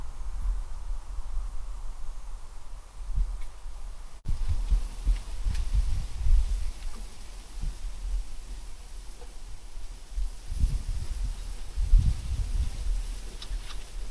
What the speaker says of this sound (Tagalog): Lakas ang hangin mga par.